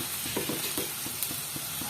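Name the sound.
silkworms frying with onions in hot oil, stirred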